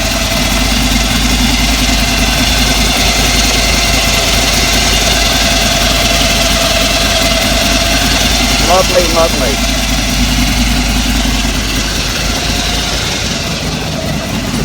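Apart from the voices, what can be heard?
supercharged hot rod engine idling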